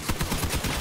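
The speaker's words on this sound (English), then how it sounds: "I appear to have driven straight into some small amounts of gunfire there" Gunfire strikes a combat vehicle in the Crossout game: a loud, rapid, rhythmic string of sharp impact bursts over steady engine and battle noise.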